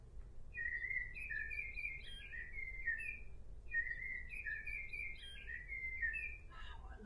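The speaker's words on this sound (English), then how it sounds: "I got a little bird." A little toy bird gives two bursts of bright, warbling chirps and whistles, close and clear over a quiet background, with a brief rustle at the end.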